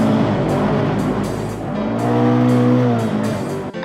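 A Vauxhall XE rally car with a six-speed sequential gearbox drives close by, its engine roaring steadily with rising and falling revs and a brief tyre squeal, loud and continuous without any voices.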